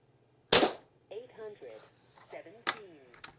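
A single sharp, close crack from an Umarex Gauntlet 2 air rifle firing one shot, followed by someone talking over a quiet background.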